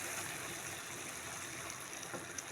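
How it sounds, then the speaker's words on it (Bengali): Water poured into a pan of potato and eggplant, a steady broadband rushing trickle running continuously and fairly faint throughout. "আমি এর মধ্যে একটু সামান্য জল দিয়ে দেব"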